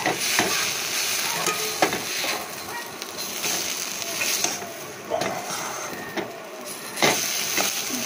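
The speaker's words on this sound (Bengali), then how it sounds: "হাতায় তুলে রেখেছি, সোয়াবিনটা ভেজে নেব।" Soybean chunks fry in oil in a wok over a gas flame, giving a steady close sizzle with scraping stirs and occasional sharper clatters from the ladle, with no talk.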